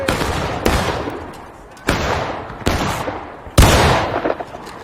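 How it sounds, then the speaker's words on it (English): Gunfire cracks and ricochets in the American Civil War video game War of Rights, four or five sharp loud reports each trailing off in a whining, echoing decay. "Ricochets."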